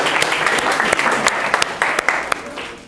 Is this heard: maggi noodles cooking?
no